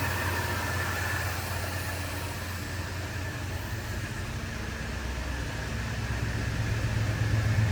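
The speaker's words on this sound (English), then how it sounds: "Just a light burble coming out of the pipe." A 1977 Ford F-100 with a 302 V8 idles steadily, a low, even exhaust burble with a constant rumble and no changes in revs, heard close without talk.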